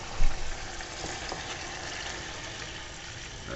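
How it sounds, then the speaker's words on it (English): Beef stock poured from a jug into a pot of chilli con carne, a soft steady liquid splash and sizzle running throughout, with a brief louder gush at the start. "we're adding the beef stock in this very professional jug with precise measurements"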